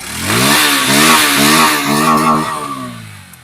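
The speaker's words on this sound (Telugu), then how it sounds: "ఇంజిన్ అయితే పర్ఫెక్ట్ కండిషన్ లో బీటింగ్ అయితే ఉంది" A 2024 Bajaj Pulsar N150 motorcycle engine revs up loudly at close range, rising in pitch, holding a steady high drone, then dropping back toward idle.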